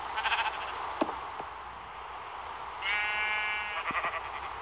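A sheep in the video game Minecraft lets out a couple of wavering, nasal bleats, one long and sustained, over a steady game ambience with a few soft clicks.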